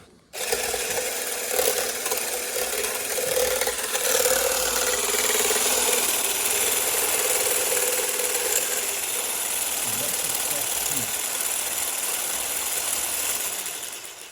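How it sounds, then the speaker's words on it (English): Double cream and vanilla whisked by an electric mixer, a steady loud whirring motor hum with a continuous rough swishing texture, unbroken for the whole stretch. "I've got my double cream and my vanilla that I'm going to whisk"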